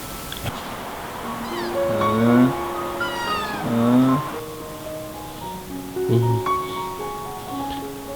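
A blind cat meows repeatedly in several drawn-out, rising cries with pauses between, fairly close, over a faint background hiss.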